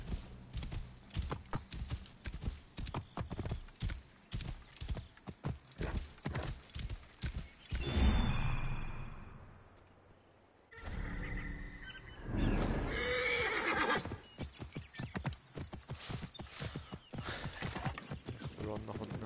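Rapid rhythmic hoofbeats of a galloping horse in the video game Assassin's Creed Origins, loud and close, broken midway by a whinny and a brief lull before the pounding resumes.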